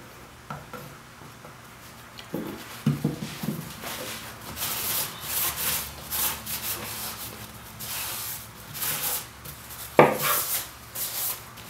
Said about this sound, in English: I'm just going to apply some Clark's cutting board oil. It's mineral oil and lemon oil mixed together.